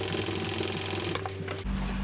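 A sewing machine stitches steadily over a connector seam on a shoulder bag's lining, a continuous near mechanical whir that keeps up for most of the clip before the motor note shifts near the end.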